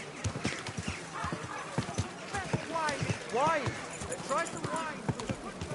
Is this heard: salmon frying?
no